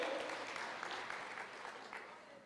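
Church congregation applauding during a sermon, a steady wash of clapping from many hands with a faint voice underneath, continuous and fairly even throughout.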